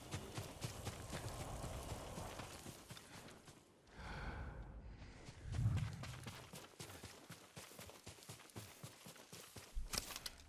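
Horse hooves in the Ghost of Tsushima video game clatter in a steady rapid rhythm, with a brief lull partway through and a snort or breathy sound; no speech.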